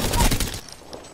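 A rapid burst of gunfire rattles out in Apex Legends, dense close shots for about half a second before cutting off into quieter game ambience.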